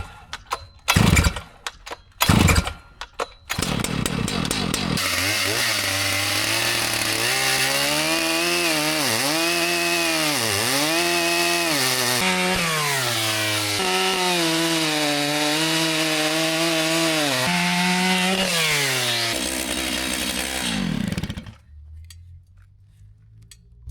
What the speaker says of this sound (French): j'ai démarré la tronçonneuse pour 10 minutes